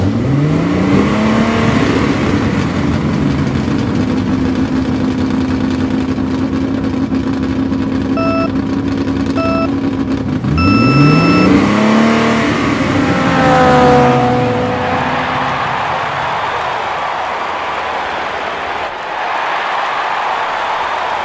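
Toy race cars, Hot Wheels models, speed down a track in a series race, a sustained whirring engine-like drone with repeated rising and falling sweeps as the cars pass, loud and steady throughout, with electronic start tones midway.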